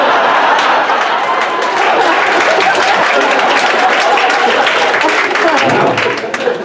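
A comedy club audience at Helium Philly claps and cheers loudly and steadily as one dense wash of applause, close and sustained, easing off slightly at the very end.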